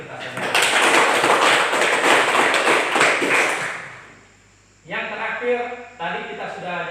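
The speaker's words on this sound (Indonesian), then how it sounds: "tepuk tangan untuk kita semua" A classroom of students clapping together, loud and dense for about four seconds before fading out, followed by a teacher speaking.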